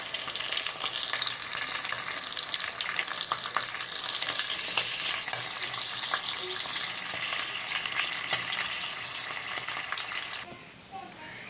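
Fish pieces fry in hot oil with curry leaves, giving a loud, steady sizzle and crackle with occasional stirring scrapes. The sizzle cuts off abruptly near the end, leaving a quieter background.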